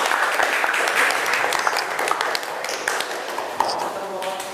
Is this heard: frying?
no